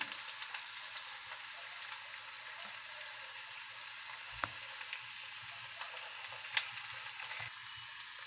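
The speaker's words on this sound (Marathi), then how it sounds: "ते चांगले लाल होऊन द्यायचं अद्रक आणि लसूण." Ginger and garlic frying in a pan, a steady soft sizzle with faint crackles and an occasional light stir, fairly quiet and with no talking.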